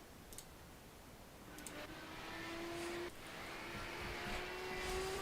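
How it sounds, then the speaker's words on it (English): Race cars on a racetrack at Summit Point, heard as a faint distant engine drone that rises into a steady whine, with a brief click near the start. "I hear cars."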